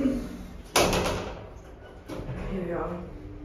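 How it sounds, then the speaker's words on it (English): Otis elevator doors in a multi-storey car park at West Quay shopping centre slide and close with a sharp thump, followed by a second softer movement and a low whir. "Doors closing."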